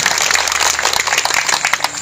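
A political rally audience in Madhya Pradesh breaks into loud, dense applause for Modi, a continuous roar of clapping that fills the whole short stretch with no speech over it.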